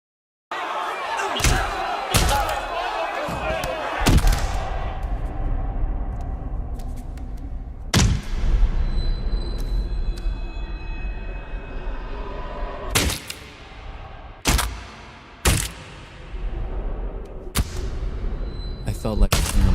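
Punch sound effects land in a Fight Club film scene: several sharp, loud hits come in an irregular series, with a strong thump at the start and more blows later, set among film dialogue and background din.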